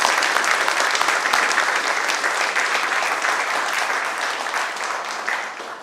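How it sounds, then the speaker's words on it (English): Applause fills a press room at the West Virginia governor's rural health announcement, a steady wash of many hands clapping that gradually fades over several seconds. "let's give a round of applause for our team"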